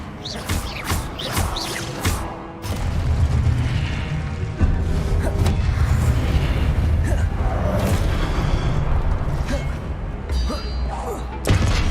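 Confringo and Levioso spells cast in Hogwarts Legacy on Xbox Series X: a run of sharp magical blasts and thuds, then a sustained rumbling boom layered with crashes and repeated impacts, loud and close.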